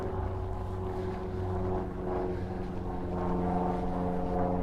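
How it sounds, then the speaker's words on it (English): A small two-seater propeller plane flies overhead above Central Park in New York, a steady low droning engine hum with a faint rising and falling swell, heard alone without talk. "the sound above us is not a helicopter, but a small, like, two-seater plane"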